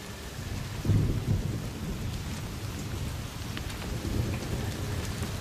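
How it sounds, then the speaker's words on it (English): Heavy rain pours steadily on an island, with a low rumble of thunder swelling early and fading into the continuous downpour. "Even the rain's bigger on this island."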